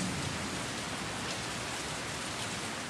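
Steady rain pattering on hard surfaces at a wooden garage building site, a dense continuous hiss with no breaks and no voices.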